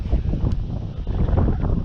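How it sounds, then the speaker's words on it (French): Strong gusts of wind blow over a ryegrass field and buffet the microphone, a loud, rumbling low roar with uneven rushes and lulls throughout. "Désolé pour le vent encore."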